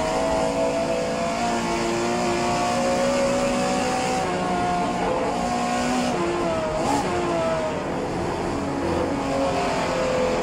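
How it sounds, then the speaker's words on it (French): A Porsche 911 Carrera RSR 3.0L racing engine in rFactor 2 drones on continuously under load with wavering, shifting pitch, loud and steady for the whole stretch, without speech. "Et voilà, le moteur a lâché."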